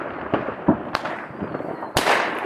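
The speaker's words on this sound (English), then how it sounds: "Oh, they're gonna set up some fireworks." New Year fireworks going off outdoors, a series of sharp cracks and pops at irregular intervals with one loud burst near the end, set against a dull background rumble.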